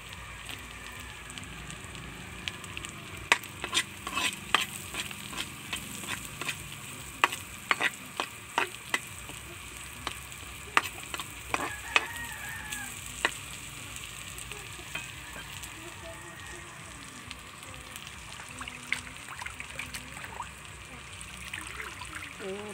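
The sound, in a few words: onions sautéing in a pan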